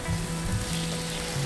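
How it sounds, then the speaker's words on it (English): New York strip steaks sear over hot coals with a close, steady sizzle that holds from start to finish. "we're going to sear the steaks directly over the hot coals"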